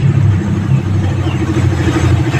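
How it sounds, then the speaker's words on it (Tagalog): Motorcycle engine with a stock 30mm engine and a 30mm Koso carburetor idling steadily and close, a loud continuous low rumble through the exhaust with no talking. "Kasi okay yung tunog ng tambucho sa engine."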